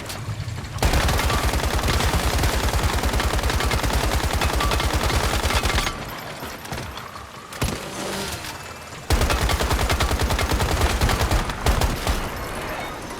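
Automatic gunfire in the survival shooter game Once Human, loud sustained rapid bursts of shots in two long runs broken by a short gap with scattered single shots and noise, no talking.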